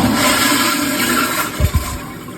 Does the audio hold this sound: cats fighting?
no